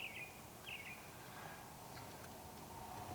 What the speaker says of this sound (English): So the birds are on fire already this morning.